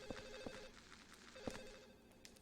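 A telephone rings in the video game Silent Hill 4: The Room, with several quick, bell-like trills spread across the clip, moderately loud over a quiet ambient backdrop.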